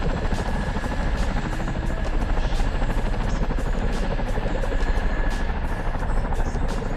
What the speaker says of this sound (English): Love the Chinook, man.